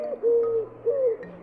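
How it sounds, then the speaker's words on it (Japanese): A feral pigeon coos twice, each a drawn-out, hooting note with a short gap between, clear and alone, played as a bird-call quiz sample. "アイラービューのハトだからこれですね、ドバート"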